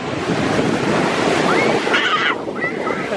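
Continuous surf washes in and out along a lakeshore beach at Lake Havasu, loud and close, with gusty wind buffeting the microphone and faint voices in the background.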